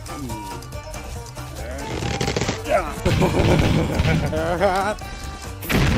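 A voice imitates rapid machine gun fire during plush toy play with angry birds and pigs, a burst of chattering vocal bursts mixed with other excited vocal sounds, loud and close.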